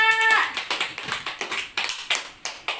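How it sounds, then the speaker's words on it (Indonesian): A classroom of fourth-grade pupils clapping for a classmate during a lesson, a string of sharp irregular claps close by with no talking, following a brief held tone at the start. "Nah, tepuk tangan buat Arfa"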